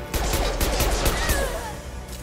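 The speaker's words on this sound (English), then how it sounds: "I love the grenade launcher" Grenade launcher fire in the Mass Effect 2 sci-fi shooter: a cluster of dull, heavy booms and crashing impacts in quick succession amid battle noise.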